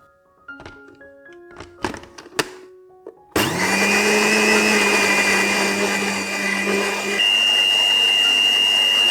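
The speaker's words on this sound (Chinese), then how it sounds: "将浸泡好的紫菜放到搅拌器里，搅打至泥状" Soaked seaweed goes into a blender: a few hard thunks and clatters of loading, then the motor starts and runs loud and steady, whirring continuously with a slight pitch shift near the end.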